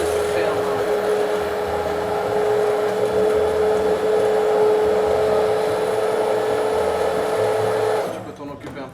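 A kitchen blender purees carrot soup with a loud, steady motor whine and churning roar for about eight seconds, then cuts off abruptly, leaving quieter room sound.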